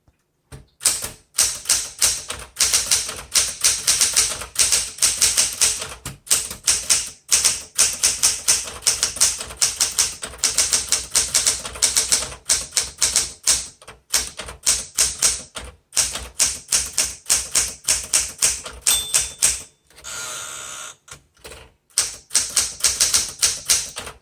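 Fast, steady typing on a 1969 Smith Corona Classic 12 manual typewriter with a red ribbon: dense, loud key strikes and clacks run almost without pause, broken only by a brief gap near the end.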